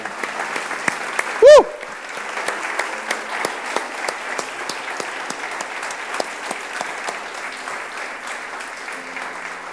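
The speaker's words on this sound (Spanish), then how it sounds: "Creo que se merece el mejor aplauso" Congregation applause inside a church during a sermon, dense continuous clapping from many hands with a brief loud tone near the start, steady and sustained to the end.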